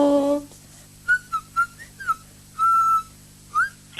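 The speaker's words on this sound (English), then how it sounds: "I was just whistling while you were gone" A person whistles a melody of short, separate phrases while a caller waits on hold, some notes clipped and others held longer, with a brief tone at the start and a faint steady hum underneath.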